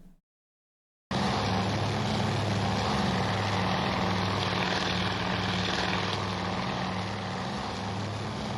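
A loud, steady drone of aircraft propeller engines in the naval combat game Task Force Admiral, kicking in abruptly after a second of silence and holding a constant throbbing hum throughout.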